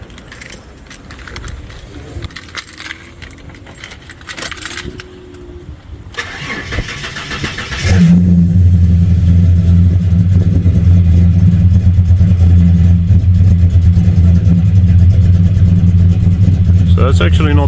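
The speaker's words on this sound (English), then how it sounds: "Yeah, so we'll see what happens when we turn the key." Keys jangle and click in the ignition, then a cammed Ford EL Fairmont Ghia cranks and fires on a cold start, settling into a loud, lumpy, steady idle that fills the rest of the clip.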